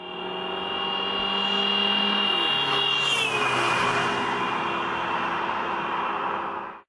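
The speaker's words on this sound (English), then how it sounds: "When the car passes us, we hear a distinct drop in pitch because the sound waves are now spread out by the car." A car drives past, its steady engine tone holding a constant pitch and then dropping noticeably as it goes by, followed by a sustained lower drone that fades out at the end.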